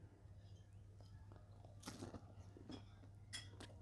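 Crunchy biting and chewing of a hot, fancy-looking cheese entree at a German restaurant, with a few close, brief crunches breaking over a steady low hum of the dining room.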